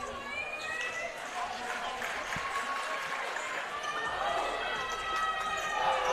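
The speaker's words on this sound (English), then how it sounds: "let's give both teams a big round of applause" A crowd applauds and cheers in a gym before a 2A state championship boys varsity basketball game, broad steady clapping with a voice over the noise.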